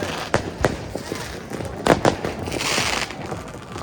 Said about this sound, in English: Everyone has fireworks.